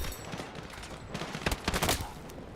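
Gunfire from a war video playing in the background, a short burst of several sharp shots clustered near the end, moderately faint and mixed with a busy low background.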